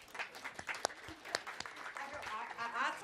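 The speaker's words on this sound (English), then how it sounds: "Applause, I think." Audience applause at a public event about humor versus hate in Europe: a soft, distant patter of many hands, with voices audible in the room.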